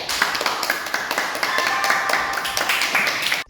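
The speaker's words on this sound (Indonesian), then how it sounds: "mari kita tepuk tangan untuk kita semua" A group in a classroom-style session claps together, dense sustained hand clapping at close range with no talk over it.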